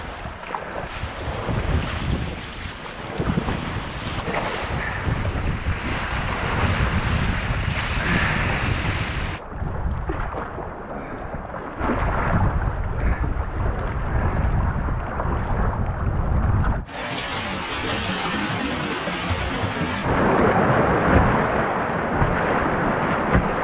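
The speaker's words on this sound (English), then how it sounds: "Paddle in the Seal River, feeling oh so wild and so free." Paddling a boat on the wild Seal River, water rushing and splashing around the hull under heavy wind buffeting the microphone, a dense, continuous roar with no talking.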